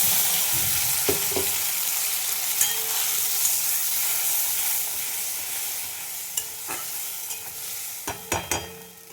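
Fried potatoes sizzling loudly in a pan with a tomato, ginger and onion paste, a steady hiss with occasional sharp scrapes and clicks of a spatula, louder clusters near the end.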